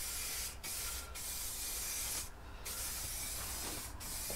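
Spray paint hisses from an aerosol can onto a unistrut roof rack on a Mercedes Sprinter van, a close steady spray broken by four short pauses, with no voices.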